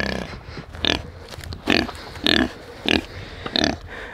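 Large farm pigs grunt in a string of short, loud, throaty bursts, about six of them, spaced irregularly and heard close up with quiet gaps between.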